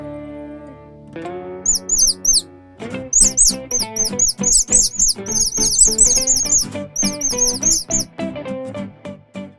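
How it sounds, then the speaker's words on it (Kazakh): High, rapid chick peeps chirp repeatedly over a busy, rhythmic musical backing, the calls coming in quick clusters throughout. "цыпленок, чек."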